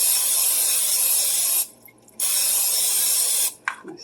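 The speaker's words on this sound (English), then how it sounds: "Spray the pan with butter spray" Butter cooking spray hisses loudly onto a pan in two long bursts separated by a short pause, then a brief clatter at the end.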